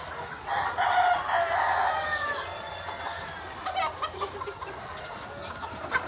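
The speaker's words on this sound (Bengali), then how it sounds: "এটা কিন্তু 6 তলা ভবনে কিন্তু এখানে মুরগি পালন" Chickens clucking and a rooster crowing inside a six-storey poultry farm building in Joypurhat, a busy mid-distance flock chorus with a louder burst early on and scattered calls after.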